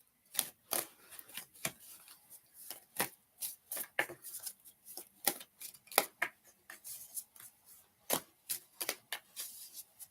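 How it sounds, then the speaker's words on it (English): Tarot cards shuffled by hand, producing a string of sharp, crisp flicks and snaps at an uneven pace, close and fairly quiet. "let's shuffle that again"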